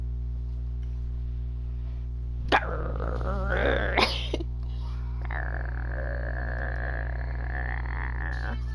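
Growling creature in Genshin Impact, a couple of rough, throaty snarls followed by a long, steady drawn-out cry over a constant low game hum.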